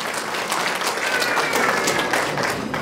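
Audience applause at a baptism celebration, a steady broadband wash of clapping hands that holds at an even level for about three seconds, with no voices over it.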